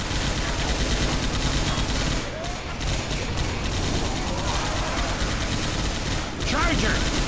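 Gunshots in Left 4 Dead 2 during a No Mercy co-op round: dense, continuous rattling fire with mechanical clicks of reloading, loud and close, with players talking over it.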